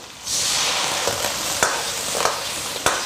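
Star anise, bay leaves, cinnamon, chilli and Sichuan peppercorns with sugar colour and Huadiao wine frying in a wok with ginger and scallion, a loud steady sizzle broken by a few sharp scraping stirs.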